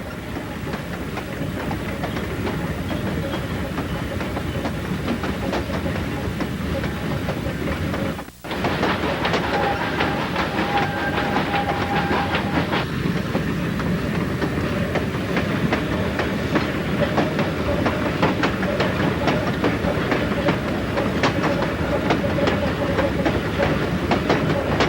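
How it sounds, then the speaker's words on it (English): An ET&WNC Tweetsie narrow-gauge train runs down State Line Hill west of Elk Park, a loud continuous rumble with steady clickety-clack of wheels throughout, briefly dropping out for a moment before resuming. "The train continues down State Line Hill"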